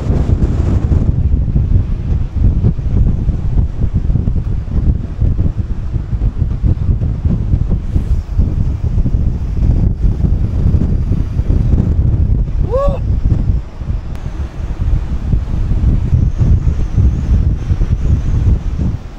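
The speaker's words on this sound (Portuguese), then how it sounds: "Porque o vento tá muito forte." A strong storm wind blasts across a fishing boat at sea, roaring loudly and continuously into the microphone for the whole stretch, gusting unevenly with faint voices buried beneath it.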